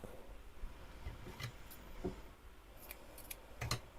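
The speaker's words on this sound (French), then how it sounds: "je vais couper un peu mon fil qui est beaucoup trop grand" Scissors cut crochet yarn in a few quiet, close snips spaced unevenly over a soft background, with no talking.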